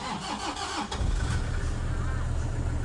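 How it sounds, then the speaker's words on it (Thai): A Toyota Vigo 2.5 pickup's diesel engine cranks briefly, then catches and settles into a steady, rumbling idle, close by. "เครื่องนิ่มมากนะครับดู ฟังเสียงเครื่องนะครับ"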